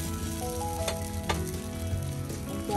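Bánh xèo batter sizzling in a non-stick pan, a loud continuous frying hiss with a few sharper crackles, close and alone without talk.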